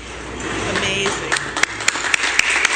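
Audience applause at a groundbreaking ceremony for health, hospital and clinic workers, a short burst of clapping with a few sharp, distinct claps standing out over a murmuring crowd.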